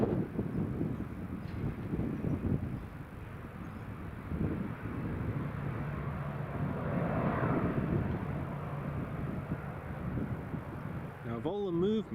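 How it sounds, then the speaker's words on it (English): Eastern Airways Embraer 190 jet on the runway at Newcastle Airport during a crosswind day, a steady distant engine roar mixed with wind noise, with people talking over it throughout. "the Eastern Airways Embraer 190 operating for KLM"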